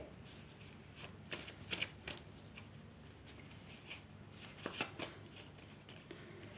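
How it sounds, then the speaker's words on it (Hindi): Tarot cards being shuffled and drawn, a run of soft papery riffles and slaps that come in small bursts, close and fairly quiet, with no one talking. "ठीक है, हम 4 कार्ड्स और निकालेंगे।"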